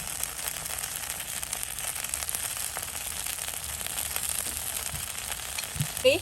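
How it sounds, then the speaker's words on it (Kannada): Tomato dosa fries in oil on a pan, a steady close crackling sizzle that holds evenly throughout, with a brief clatter of a utensil at the very end. "ಒಳ್ಳೆ ರೀತಿಯಲ್ಲಿ ಫ್ರೈ ಆಗಿದೆ."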